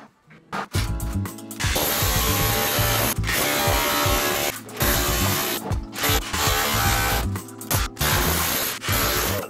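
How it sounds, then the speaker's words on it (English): A power tool chases a channel into a kitchen wall during a refurbishment, grinding loudly and continuously at close range with brief pauses and restarts throughout. "I'm chasing out this channel"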